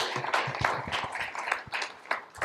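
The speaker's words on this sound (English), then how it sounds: "Applause." Steady applause from a room of people, a dense patter of claps with no talking.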